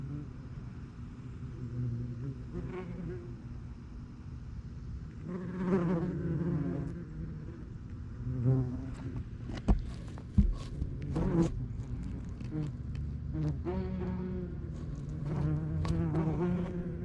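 A dense mass of bees buzzes steadily inside a nest, a continuous close drone with a few clunks and bumps mixed in.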